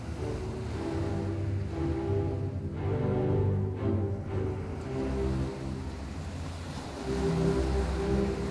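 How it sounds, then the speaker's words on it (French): Ocean waves surge and recede in slow, rolling swells, a low, full wash that rises and falls several times, with a steady tonal hum running underneath. "je regarde l'océan, j'entends le bruit des vagues"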